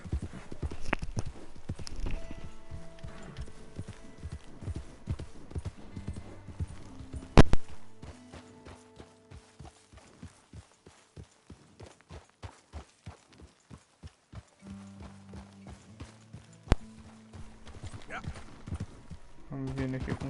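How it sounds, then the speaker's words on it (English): Horse hooves in Red Dead Redemption 2 walk carefully in slow, irregular clip-clops, close and clear over quiet in-game music, with a few louder thumps along the way. "Vamos vindo aqui com cuidado pro cavalo não escorregar e cair."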